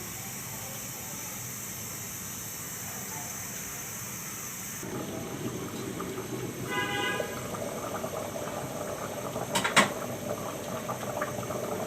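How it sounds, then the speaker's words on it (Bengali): Vegetable khichuri simmering in a covered pot on a stove, a steady low bubbling hiss that swells and thickens partway through, with a brief clatter near the end. "সবজি খিচুড়ি বলক উঠে গেছে"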